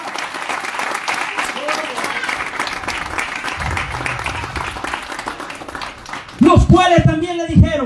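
A church congregation breaks into sustained applause, a dense crackle of many hands that goes on for several seconds before a preacher's amplified voice cuts in near the end.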